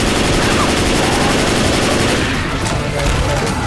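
Rapid, continuous automatic gunfire in Left 4 Dead 2 as signs are shot, loud and dense throughout, with voices talking underneath.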